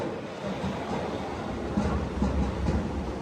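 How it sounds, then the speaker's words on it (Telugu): A MEMU passenger train rolls into Gudur Junction railway station, a steady broadband rumble of wheels and carriage noise that swells slightly toward the end, with no voices. "గూడూరు రైల్వే స్టేషన్కి ఎంటర్ అవుతున్నాం"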